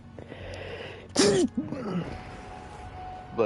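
One sharp human sneeze in a quiet room, a sudden loud burst with a voiced tail.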